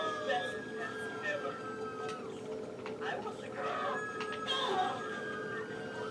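A rooster crows in the video game Goat Simulator, a faint cock-a-doodle-doo with a few clucks set within game background sound, as a player talks over it.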